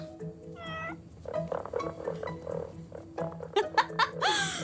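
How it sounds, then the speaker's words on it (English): A 1990s robotic toy cat lets out a string of short electronic meows of varying pitch, ending with a longer, warbling cry. "it will meow when it hears any voice in its general direction"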